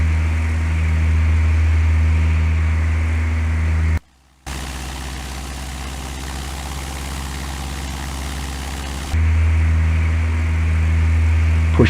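An airplane engine in the video game Flight Simulator 2004 drones steadily and loudly, cutting out briefly and then shifting level partway through.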